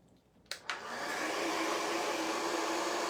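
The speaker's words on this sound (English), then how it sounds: "I will try to dry this with my blow dryer and see what happens." Hair dryer blowing steadily to dry wet ink on a towel, switching on with a couple of sharp clicks and then holding a loud, even whoosh close by with no talking.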